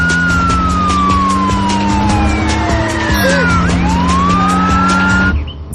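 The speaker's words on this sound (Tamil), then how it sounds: "அந்த ஆம்புலன்ஸ் இவ்ளோ வேகமா ஹாஸ்பிட்டலுக்கு போகுதுன்னா யாரோ உயிருக்கு ஆபத்தான நிலைமையில இருக்காங்கன்னு தானே அர்த்தம்" An ambulance siren wails loudly and close while the vehicle speeds toward a hospital, its tone sliding up and down steadily over the rumble of traffic before cutting off near the end.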